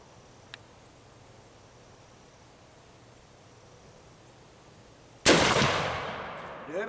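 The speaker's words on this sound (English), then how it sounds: "5 shots were fired during this initial shooting event" A single sharp shot from a rebuilt Brunswick black powder rifle cracks out loudly after a long quiet stretch, followed by a broad, rolling blast that decays over more than a second outdoors.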